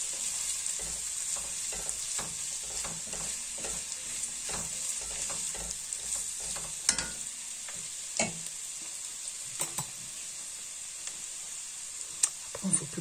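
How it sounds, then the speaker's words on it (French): A spoon stirs winter vegetable ratatouille in a sizzling pan, giving a steady frying hiss broken by repeated scraping clicks and taps against the pan, with occasional speech nearby. "Voilà, on mélange bien, on surveille. Que surtout ça n'accroche pas."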